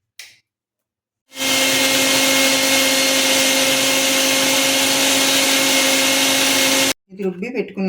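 A kitchen mixie blender grinds soaked flattened rice batter with salt, turmeric and water for uttapam, a loud steady motor whine running for about six seconds before cutting off, followed by a brief voice.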